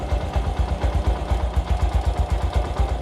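A stock vehicle engine with no internal work done after 37,000 km idles close by, a steady low rhythmic thrumming pulse with a choppy, helicopter-like beat running throughout.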